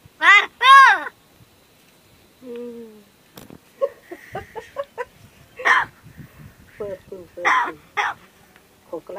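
A crow gives harsh, close caws in a short double burst at the start, then gravelly calls and rasping sounds recur among brief voice-like bits, mimicking human speech as 'kaka kaka'.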